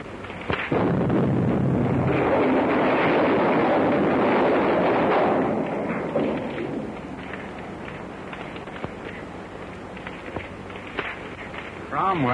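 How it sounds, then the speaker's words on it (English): A booming gas tank explosion erupts and rumbles for several seconds, then fades into lingering crackling and low roar, with voices heard faintly around it. "the explosion got them both"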